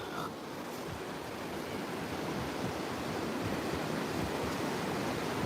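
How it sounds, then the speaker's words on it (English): Ocean waves breaking on the beach at Mona Vale, a steady, dense roar of surf with some wind rumble on the microphone, with no talk. "Why am I on the beach?"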